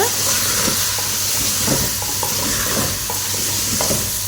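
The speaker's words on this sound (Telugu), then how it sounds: "చికెన్ ఇలా కాస్త మగ్గిన తర్వాత మనం కట్ చేసుకుని కడిగి పక్కన పెట్టుకున్నటువంటి కూరగాయలు అయితే వేసేసుకోవాలి" Chopped vegetables stirred into chicken curry cooking in a pan, a constant sizzling hiss with soft scraping stirs and occasional taps, close and steady throughout.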